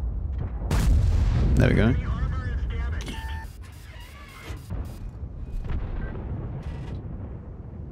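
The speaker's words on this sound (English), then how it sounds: "I'm just gonna have to fire here because I need to get the damage in" Tank cannon firing in World of Tanks: a sharp, loud booming shot with a rolling rumble and metallic ringing afterward, with someone talking over it.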